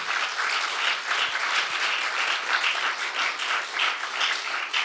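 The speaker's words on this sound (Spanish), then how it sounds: "Denle un aplauso fuerte al Señor Dios Todopoderoso." A church congregation applauds loudly during a Spanish-language service, many hands clapping in a dense, pulsing wave that holds steady for several seconds with no talk over it.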